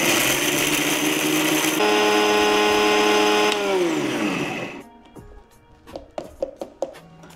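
A loud electric grinder whirs steadily as it powders whole spices, then winds down and stops, followed by a few sharp knocks and clatters of the jar.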